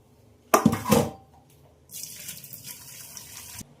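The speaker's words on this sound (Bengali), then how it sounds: "আগে মাছটা ধুয়ে নিই" A live fish is rinsed under a running kitchen tap, with a brief splashy burst of handling near the start, then a steady hiss of flowing water that cuts off abruptly, close and clear.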